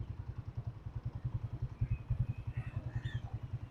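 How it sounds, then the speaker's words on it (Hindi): A motorcycle rides slowly into a long narrow lane, its engine putting out a steady low, rapid thumping at close range with faint background sounds above it. "अब मैं इधर बाइक पे अंदर जाने लगा हूँ"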